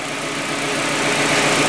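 A Hyundai engine idles after a Liqui Moly additive treatment for hydraulic lifter knock, giving a loud, even, continuous hum with no distinct ticking.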